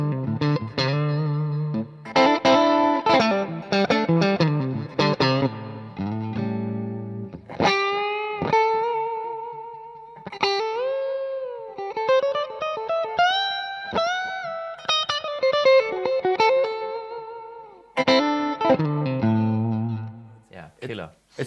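Vintage electric guitar on the neck pickup, run through distortion and chorus effects. It plays loud, rhythmic chord stabs, then long sustained bending notes and a return to choppy strummed chords, with no talk over the playing.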